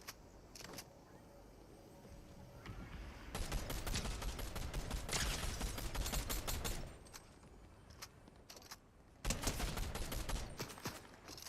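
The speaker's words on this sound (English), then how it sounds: "Kind of blind firing." Gunfire in Fortnite, dense bursts of rapid shots that come in several loud stretches with quieter gaps between them, fairly close and with no talk over them.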